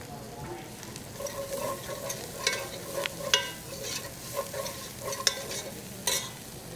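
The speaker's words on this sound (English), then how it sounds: "we're going to put that garlic in there" Garlic sizzles in a hot pan alongside greens and caramelizing vegetables, with a steady frying hiss broken by irregular sharper crackles and scraping stirs, fairly quiet and close, with no talking.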